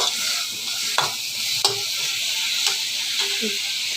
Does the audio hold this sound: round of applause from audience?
no